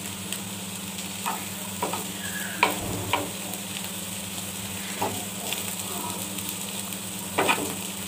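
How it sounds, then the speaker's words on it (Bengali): Bitter gourd fried with egg sizzles steadily in a pan, with intermittent scraping stirs of a utensil over the continuous frying hiss. "এই গরমে আমাদের করলা ভাজিটা হয়ে এসেছে।"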